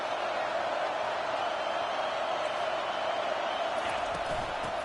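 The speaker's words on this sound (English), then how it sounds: "Third down, and this crowd is tearing the lid off this place." Football stadium crowd roaring during a third-down play, a steady dense wash of cheering voices that holds loud and even throughout with no clear breaks.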